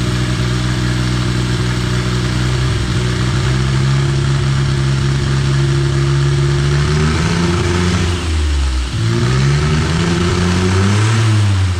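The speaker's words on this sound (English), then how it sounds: "So when it has zero pressure going to the MAP sensor, this is how it runs." A Smart Car CDI diesel engine runs rough with no pressure reaching its MAP sensor, a loud, steady, close-up drone that rises and dips unevenly in pitch, with a deeper sag near the end.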